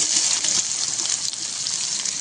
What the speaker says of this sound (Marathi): जिरे मोहरी छान तडतडली कांदा घालून घ्यायचा